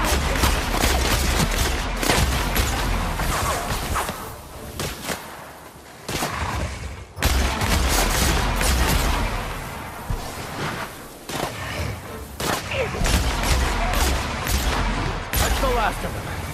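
A firefight in The Outer Worlds, with bursts of gunfire, booms and whooshes close and loud across the stretch, over a continuous background din.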